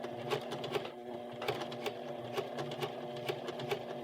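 Sewing machine stitching a blouse, locking in stitches, with a steady mechanical whir and rhythmic clicking needle beats repeating throughout; close and moderately quiet, no talk.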